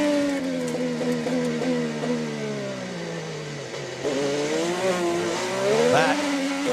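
IndyCar race cars scream around the Detroit street circuit, a loud engine note rising and falling through gear changes as the cars pass close, with no voices over it.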